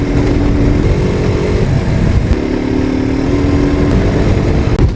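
KTM RC 125 motorcycle carrying two riders on a hot road, its engine droning steadily and loud throughout with continuous wind rush and small shifts in pitch.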